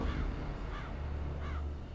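Crows caw three times at an old battlefield, the harsh calls evenly spaced and moderately distant, heard over a steady low rumble.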